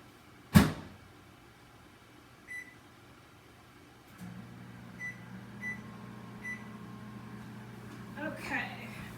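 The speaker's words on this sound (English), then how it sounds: "I'm gonna just pop these cupcakes in the microwave for 2 minutes and 30" A sharp thump, then a steady low microwave hum starts and runs on while heating cupcakes, with a few faint beeps and clicks over it.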